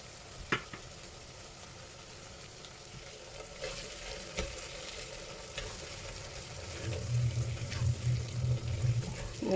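Kurma masala with tomato puree being stirred in a pan for red chicken kurma, giving a low, steady sizzle with scraping stirs and a few sharp utensil knocks, growing louder toward the end.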